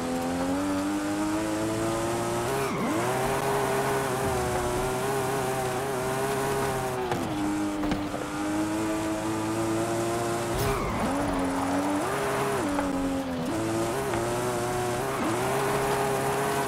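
A Mustang drifts in a video game, its engine droning loud and steady with repeated rising and falling revs and tire squeal through the turns, without talk.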